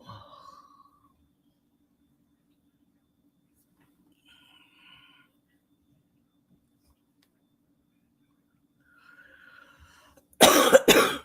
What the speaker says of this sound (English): When I cough, it hurts.